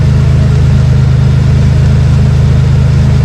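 The engine of a Vermeer SC1052 stump cutter drones loud and steady at close range while grinding, with a deep, even low hum and no talk over it.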